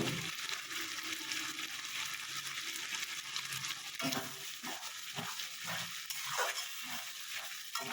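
Ginger frying in oil in a pan for a Bengali taro and prawn dish, a steady broadband sizzle with stirring scrapes that turn rhythmic in the second half, close and continuous with no voices.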